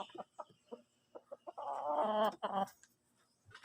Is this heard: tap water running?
no